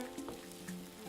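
Onions sizzling in a pan for seafood paella, a soft steady frying hiss with small crackles, fairly quiet and close.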